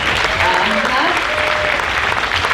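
Audience applause at a wearable arts show in Sitka, a dense, steady wash of clapping that fills the whole moment at close range, with some voices calling out underneath.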